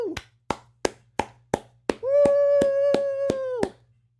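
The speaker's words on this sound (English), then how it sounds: "Everyone give them a round of applause" A single person claps slowly and evenly, eight crisp, close handclaps about a third of a second apart, with a sustained voiced whoop ringing over the last few.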